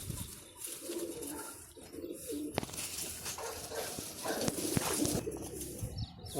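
A female pigeon coos repeatedly at close range, soft throaty calls rising over a quiet background with occasional light clicks.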